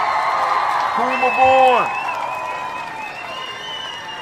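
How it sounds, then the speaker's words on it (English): Applause from a gathering celebrating the Kuumba babies, a soft, brief patter of clapping beneath a speaking voice that carries over it. "we want to give all of the Kuumba babies a round of applause"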